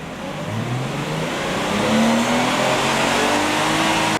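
A Lexus IS200 engine pulled in second gear on a dyno, revving steadily upward from low to high, loud and continuous, then cutting off abruptly at the end.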